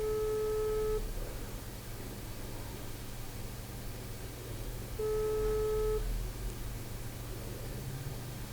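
A telephone call rings out on the line, with two long one-second tones about four seconds apart over a hissing line noise, no talking.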